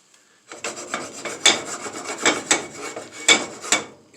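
Omelette eggs are stirred and scraped in a hot pan, a series of rasping, rubbing strokes in an uneven rhythm, close and fairly quiet after a brief silent start.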